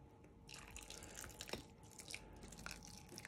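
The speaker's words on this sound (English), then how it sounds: "about 3/4 of a pint of aquarium water from my fish tank, which I'm going to just pour in" Aquarium water from a fish tank pours in a soft, steady trickle with small drips and splashes, low in level and close by, with no talking.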